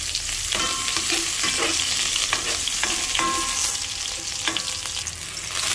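Garlic and onion sautéing in a hot pan, a loud close sizzle with a continuous frying hiss and occasional stirring clatters and scrapes, no voices.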